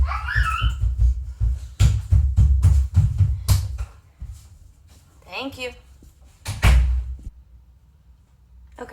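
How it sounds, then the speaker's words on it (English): A door is being closed indoors, with several bumps and a thud among knocks and handling noises. A person talks partway through. "close my door."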